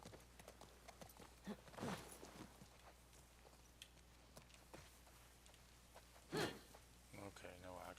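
Horse hooves clip-clopping at a steady walking rhythm while riding in The Last of Us Part II, moderately close and fairly quiet, with a few louder bursts and a voice speaking over parts of it.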